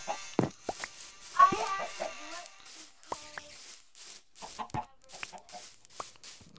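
Chickens cluck repeatedly in a Minecraft-style farming game, short choppy clucks and squawks in irregular bursts, fairly close and clear with no talking over them.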